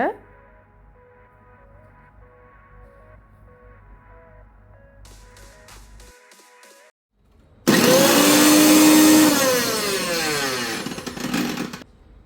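A Nikai mixer grinder with its jar fitted runs with a loud, harsh, steady whirring roar for about four seconds, following a quieter stretch of humming tones.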